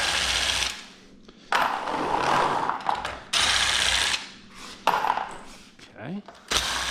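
Ratchet and wrench work on 12 mm bell housing bolts of a Porsche 911 G97/01 transmission, in several bursts of loud metallic clicking and cracking separated by short pauses, close up.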